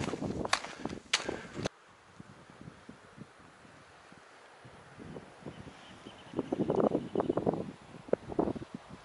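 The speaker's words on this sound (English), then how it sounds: "It's windy." Gusty wind on the Pacific Crest Trail near Idyllwild buffets the microphone in rough, uneven bursts, rumbling and rustling, with a few sharp knocks early on.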